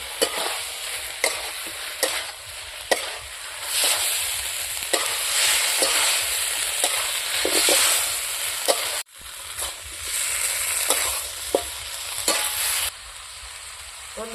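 Cauliflower stirred into spiced masala in a hot pan, with constant loud sizzling of frying and repeated scraping strokes of a spoon at an uneven rhythm, a brief lull partway through, and no talking.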